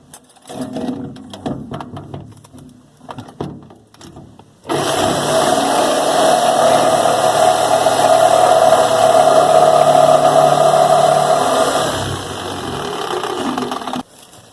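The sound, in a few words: cutting corners out of a black iron fuel tank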